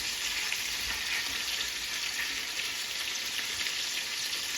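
A frozen ginger and garlic cube sizzling in a hot pan, a steady, moderately quiet hiss and crackle that holds evenly throughout with no talking.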